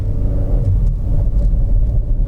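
A deep, steady sport exhaust rumble from a Hyundai i30 N-line drones throughout, low and continuous with a slight throaty pulse, fairly loud and close.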